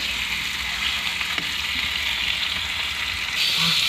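Tomatoes fry in a hot pan with a steady, close sizzle that holds even throughout, brightening slightly near the end, with no talking.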